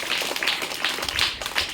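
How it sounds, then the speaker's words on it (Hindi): A group claps to welcome a prize winner at a school ceremony, a brief burst of close, rhythmic applause with no one speaking over it. "लीजिए, इसको जोरदार ताली से स्वागत कीजिए।"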